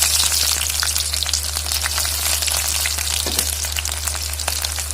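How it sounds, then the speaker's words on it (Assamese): Chopped onions fry in mustard oil in a hot wok over a medium gas flame, a steady dense sizzle with crackling pops running close and loud throughout, with no talk. "ইয়াতে মই কাটি থোৱা পিঁয়াজখিনি দি দিম"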